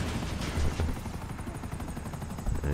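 A helicopter in Grand Theft Auto V thrums with a steady rotor chop and engine roar throughout, loud and continuous, with faint gunfire-like pops mixed in.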